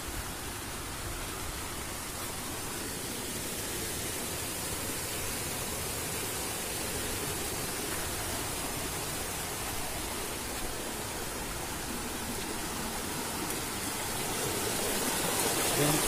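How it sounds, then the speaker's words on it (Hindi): Water rushes down a hillside stream channel in a rural hill area at Tedhasemar, a loud, steady broadband roar that holds constant and swells slightly near the end, with no talk. "देखिए ऊपर से पानी आ रहे हैं"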